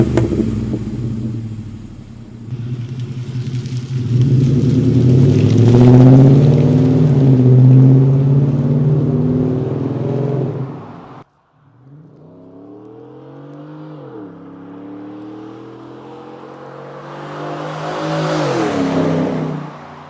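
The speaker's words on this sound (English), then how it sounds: "This exhaust really has an awesome sound." Ford F-150 with a 5.0L V8 and a cat-back exhaust with 3-inch piping and 3.5-inch dual tips, revving loud and close with a raspy, rising drone, a brief cut, then another climbing rev.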